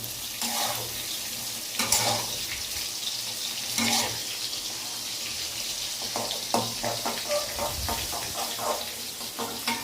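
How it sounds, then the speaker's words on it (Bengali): Eggplant pieces frying in oil in a pan, a continuous sizzle with bursts of stirring and clatter, close and fairly loud, without speech. "লাল লাল করে বেগুনগুলো ভেজে আমরা এবার তুলে নেব।"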